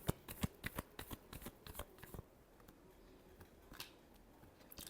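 Tarot cards are shuffled by hand in a quick run of crisp riffling snaps that fill the first two seconds, then a quiet stretch with a few faint soft rustles.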